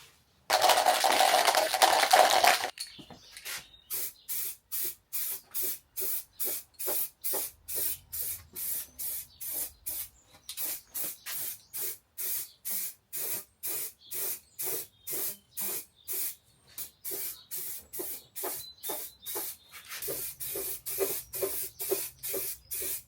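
Spray painting Harley Davidson Sportster 1200 parts in a custom-made spray booth: a long opening hiss, then dozens of short, evenly spaced spray bursts in quick rhythm, close and clear, ending in a longer steady spray.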